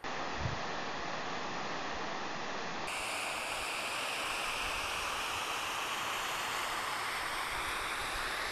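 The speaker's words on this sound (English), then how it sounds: "We've reached the second waterfall here." A waterfall in Grove Creek Canyon roars as a steady broadband rush. It is loud and continuous and sounds close, with no talking.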